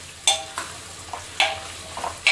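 Sliced onions stirred in a pot for mutton curry, a few close scraping strokes over a light sizzle, with no voices.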